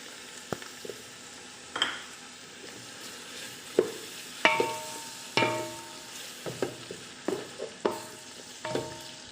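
Minced chicken and hotdog cook in a pan for spaghetti bolognese, with a soft sizzle under repeated scraping stirs of a utensil, each stroke close and distinct at an irregular pace.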